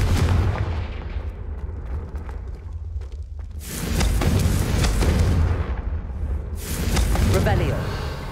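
Fiery Confringo blasting-spell explosions in the Hogwarts Legacy video game, two loud roaring bursts with crackling tails rising over constant game noise and a player's talking.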